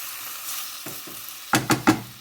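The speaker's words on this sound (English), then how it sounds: "Leave that to cook. Don't play with it too much because you want the meat to actually cook." Minced meat for chilli con carne frying in a pan, a soft background sizzle broken by a few scrapes and stirs, then three loud close scraping strokes in quick succession.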